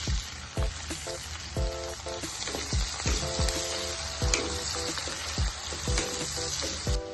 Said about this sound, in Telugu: ఉల్లిపాయలు వేగాయి